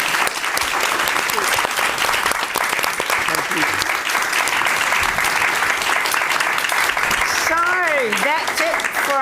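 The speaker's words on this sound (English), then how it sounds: "what about a big fat round of applause for our amazing panel?" A large audience applauds loudly and steadily, with dense clapping filling the whole stretch and a few cheers and whoops rising near the end.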